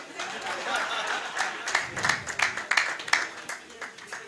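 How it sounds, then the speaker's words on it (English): A handful of scattered claps ring out over a low crowd murmur in a hall at a football league season awards ceremony, sparse and uneven rather than full applause. "Why are people not clapping for me?"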